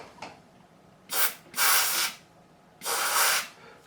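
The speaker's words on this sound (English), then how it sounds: "So we'll just give it a quick spray" Three short bursts of aerosol spray aimed into a fret slot on a Gretsch G5422 12-string guitar during a refret, each a close, sharp hiss with quiet pauses between.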